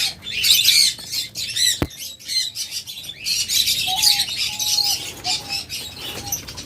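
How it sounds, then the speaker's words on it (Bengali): Pet birds including diamond doves at a bird sale, a busy mix of chirps, squawks and wing flutters, fairly close and continuous, with a few short whistled notes and a sharp click. "অসংখ্য ডায়মন্ড ঘুঘু রয়েছে আমাদের কাছে"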